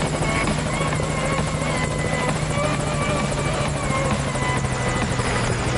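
A chopper that has taken fire and damage hovers near a landing zone in a video game, its rotor beating in a loud, steady, close drone with a continuous engine hum.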